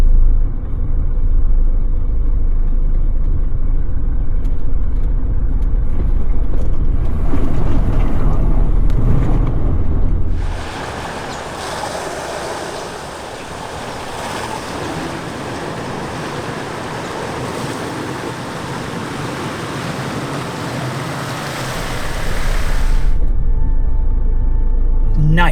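A 4x4 on a desert track plunges into deep water: steady engine rumble, then a long rushing, hissing surge of water around the vehicle for about twelve seconds before the engine drone returns.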